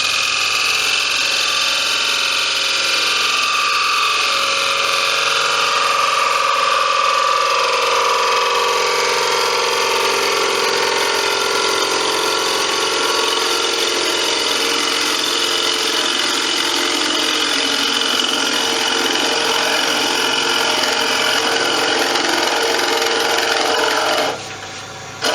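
A wood lathe spins a bowl while a fresh, newly sharpened gouge makes finishing cuts on the inside, giving a steady, loud, continuous whirring hiss that runs unbroken and alone, then stops abruptly near the end.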